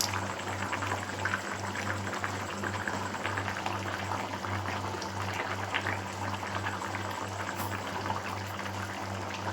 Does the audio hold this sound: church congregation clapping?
no